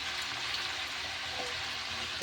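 Mutton chaat (khasir chaat) frying in a pan as its cooking water boils off and salt goes in, giving a steady, broad sizzle that holds evenly throughout without any voices.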